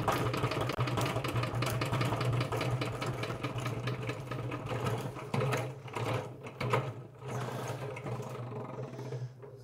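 An electric Vevor honey extractor spins honey frames with a steady mechanical whir and rapid clattering rattle, close and continuous, easing off and turning uneven toward the end.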